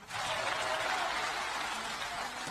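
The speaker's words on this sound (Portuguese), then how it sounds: "Dê esse aplauso de glória a Deus" A church congregation breaks into applause in praise, a dense wash of many hands clapping that starts abruptly and holds steady, heard from a distance in a large room.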